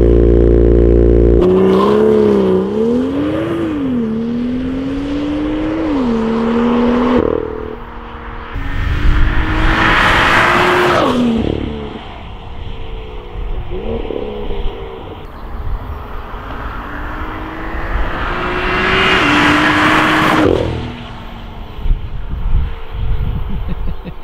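A BMW M2 sports car accelerating hard, its engine note climbing loudly through the gears with brief drops at each shift, close and dominant for the whole stretch.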